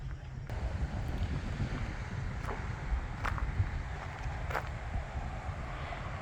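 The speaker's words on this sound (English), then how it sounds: "Have a breeze blowing out here, so I hope you guys can hear me talking okay." A light outdoor breeze buffets the microphone on an open car lot, a low, steady rumble with a few faint clicks, heard alone.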